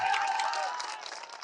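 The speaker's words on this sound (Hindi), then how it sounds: "अब ताली बजा लो, अब बजा लो ताली" A crowd at a political rally in Nalanda, Bihar claps in a dense, steady burst of applause, loud at first and tapering slightly toward the end.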